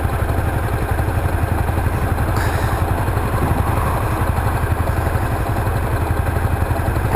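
A Honda CTX700 motorcycle idles at a traffic light, its engine holding a steady, even low pulse with a faint mechanical clatter, close and constant throughout with no talk.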